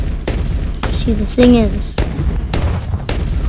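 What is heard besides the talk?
cannon firing in video game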